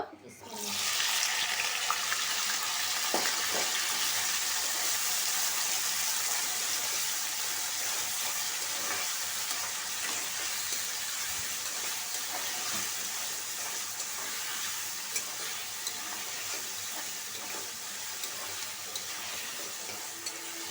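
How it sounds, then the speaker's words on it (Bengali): Chunks of garlic, potato and onion dropped into hot oil burst into a loud, dense sizzle that stays steady and close for the whole stretch, fading only slightly. "তেলটা গরম হয়ে গেছে আমি এখানে যে রসুন এভাবে বড় বড় করে কেটে নিছি সাথে একটা আলু দিছি আবার পেঁয়াজও নিছি সবগুলো এখন তেলে দিয়ে দিব"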